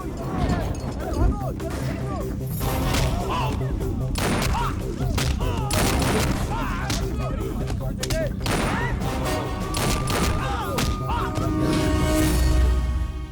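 Gunfire breaks out at a party in a Hindi-dubbed action film: bursts of shots and heavy thuds mixed with shouting voices and a busy soundtrack throughout.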